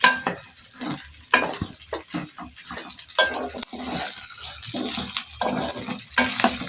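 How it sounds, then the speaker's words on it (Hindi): Okra (bhindi) frying in hot oil for desi dhaba-style masala bhindi, a steady crackling sizzle with bursts of stirring and utensil scrapes, close and fairly loud throughout, no talk. "अब इसे फ्राई करेंगे, फ्राई करके फिर इसे निकाल लेंगे"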